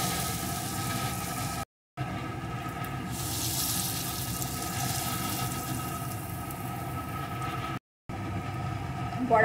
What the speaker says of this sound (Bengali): বড়াগুলো আমি সুন্দর করে লাল লাল করে ভেজে নেব।